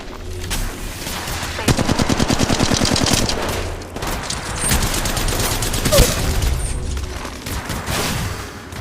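Rapid automatic gunfire in a shooter video game, loud close bursts of full-auto fire with a short pause around the middle before another long stretch of shots.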